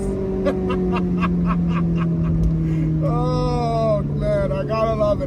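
A 2007 Honda S2000 with a mostly stock exhaust drones at a steady pitch, then revs up with a rising, sweeping engine note, loud and close throughout.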